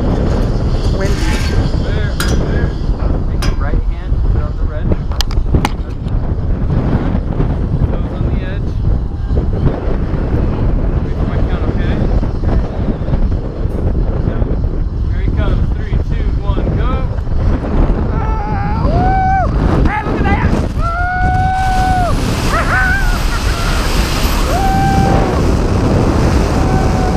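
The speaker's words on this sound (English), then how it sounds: "Windy." Steady, loud wind roar buffets the microphone during a skydive over Las Vegas, filling the whole stretch with broadband rushing noise, while brief whistling tones and a few spoken voices come through near the end.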